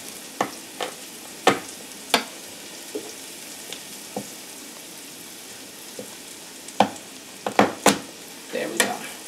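Smashed garlic cloves frying in a pan, giving a steady soft sizzle with scattered sharp pops and crackles, close up and alone.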